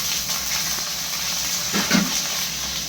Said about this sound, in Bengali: পেঁয়াজগুলো ছেড়ে দিলাম। এগুলো ভেজে নেবো আগে।